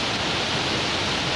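Steady broadband hiss of rain falling in the city of Chandigarh, a dense, even wash of drops with no breaks, fairly close and moderately loud, no voices.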